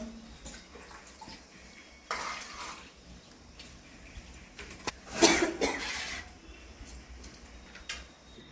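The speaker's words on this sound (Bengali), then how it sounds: "তুলে আমি ঠান্ডা জল দিয়ে ডিমগুলোকে খোসা ছাড়িয়ে নেব।" Large boiled eggs handled and peeled under cold running water, with splashing bursts of tap water and wet handling sounds that come and go, loudest in a brief gush near the middle.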